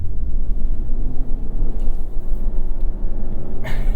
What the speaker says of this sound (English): We are spinning quite a bit.